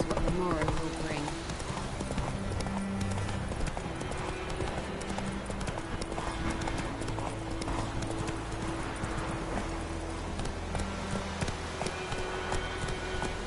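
Horse hooves clip-clopping at a steady gait in the Witcher 3 Wild Hunt video game, a rhythmic, close clatter running throughout under a game soundtrack, with speech also present.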